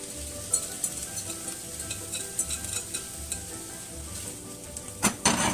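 Veggies with nopales cactus frying in olive oil in a pan at medium heat, a loud continuous sizzle with light stirring scrapes and a sharper clatter near the end.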